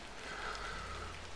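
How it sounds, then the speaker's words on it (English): Steady rain falls outdoors in the video game Hob's Barrow, a soft continuous wash of patter with no distinct drops, fairly faint and with no voices. "A bit of rain won't kill me,"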